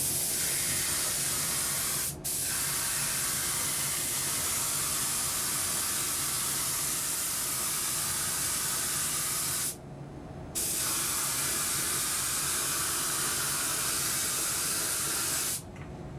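Clear coat sprayed from an aerosol over ink lettering and decals on a Windy U Master 900 part, a steady close hiss that runs almost unbroken, with brief pauses between passes.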